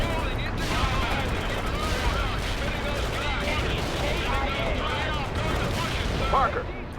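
Artillery barrage in the Cold War strategy game World in Conflict: Soviet Assault, a continuous dense roar of overlapping blasts and gunfire rumbling steadily throughout, with a voice speaking over the din.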